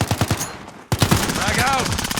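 Rapid automatic gunfire in the Modern Warfare video game rattles in quick bursts close by. Shouted voices and whistling effects run beneath it, with a brief gap before the firing resumes.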